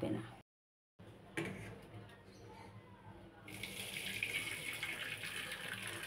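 Water from boiled hog plums poured off through a strainer into a sink, a soft splash that swells into a steady, close rushing pour after a brief gap, faint background noise beneath.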